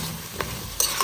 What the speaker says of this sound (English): I'll stir and cook it for a couple of minutes, allowing it to bunjing in that curry paste, curry base.